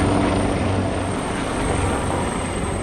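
Rescue helicopter circling over a campsite in Killarney Provincial Park, a loud continuous rotor and engine roar, close and steady throughout with no talk.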